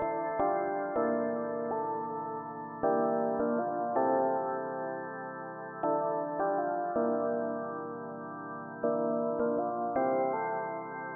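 A layered synth melody from a sample pack plays in FL Studio, sustained keyed notes stepping through an ambient, wavy chord line at steady volume with no voices.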